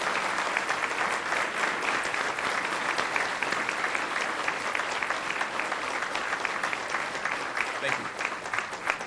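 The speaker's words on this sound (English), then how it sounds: "Please join me in a round of applause for the" An audience at an Army-Baylor health administration graduate program ceremony applauds the 2015-2016 residency class, with thick, even clapping that carries on for about nine seconds at a moderate level.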